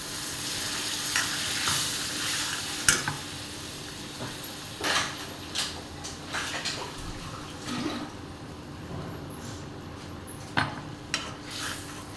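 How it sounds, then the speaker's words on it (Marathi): Urad dal curry masala sautéing and being stirred in a pan, a steady sizzle broken by repeated scraping and clinking strokes of a spoon against the metal, close and moderately loud, with no talking. "जरा परतून घ्यायचं चांगलं थोडंसं आणि हे मसाल्याचं पाणी टाकूया"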